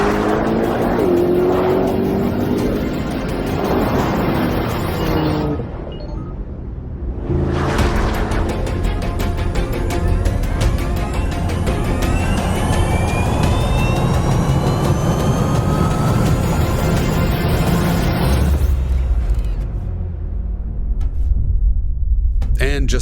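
Lucid Air Sapphire electric sedan and Corvette ZR1X accelerating side by side in a drag race, a loud sustained roar with rising whine and a brief dip mid-run before surging again, continuous over roughly twenty seconds.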